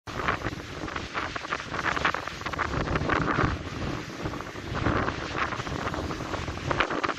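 Strong, steady wind roars and buffets the microphone throughout, a dense blizzard howl over the high ground of Gümüşhane, Turkey, in July, with no voices.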